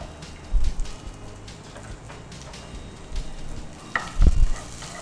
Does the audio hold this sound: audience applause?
no